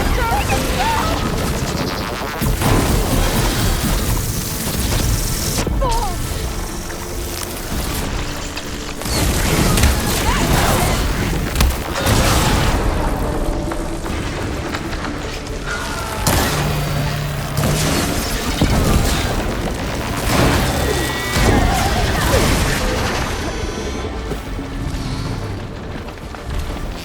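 A run of heavy, booming detonations in the action game Horizon Forbidden West: Burning Shores, loud crashing blasts recurring every few seconds over a dense bed of rumbling combat noise.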